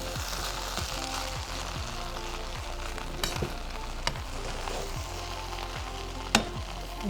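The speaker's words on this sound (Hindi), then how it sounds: "हमारी बिरयानी रेडी हो चुकी है टोटल। इसको अच्छे से मिक्स करेंगे।" Cooked biryani stirred and mixed in a pot, with steady sizzling throughout and repeated scraping strokes of a spoon at a regular rhythm, plus a few sharper knocks against the pot.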